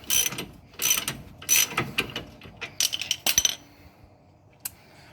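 A ratchet wrench loosens a nut on the rear shock of a Volvo 240, giving several close bursts of rapid metallic clicking in short strokes with pauses between, then a lone click near the end.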